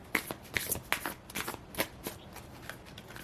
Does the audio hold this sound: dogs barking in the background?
no